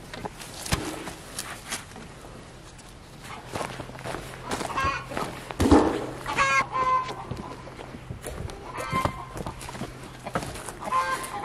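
Backyard chickens cluck close by in a homestead chicken run, with scattered footsteps and shuffling and brief soft talk in between.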